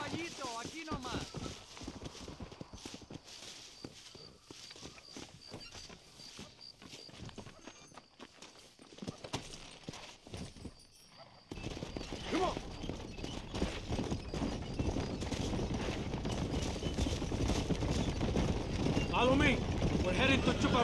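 Horse hooves clip-clop steadily while riding in Red Dead Redemption, a rhythmic trot under talk and game sound that grows louder and denser in the second half.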